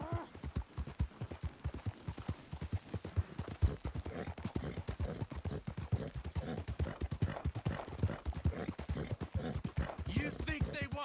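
Steady, rapid clip-clop of horse hooves close by in Red Dead Redemption 2, with continuous rhythmic thuds throughout and talk mixed in underneath.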